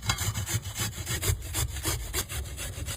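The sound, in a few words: grating carrot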